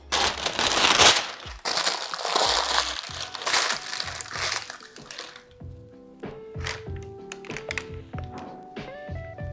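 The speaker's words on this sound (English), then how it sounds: "we're also going to put some parchment paper down in our pan" Parchment paper crinkles and crumples loudly as it is pressed into a baking pan for brownies, in dense rustling bursts that fade into scattered taps and soft thunks.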